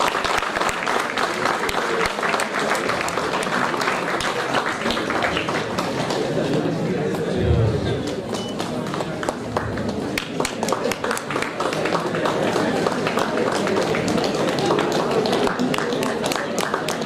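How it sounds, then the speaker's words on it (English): A conference audience at a valedictory ceremony gives a sustained round of applause, dense clapping filling the room throughout with some chatter underneath. "Please give them a good round of applause."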